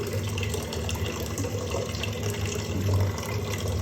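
Filtered mineral water runs steadily into a container for boiling peanuts, a continuous close splashing fill like a tap stream, with no talk over it.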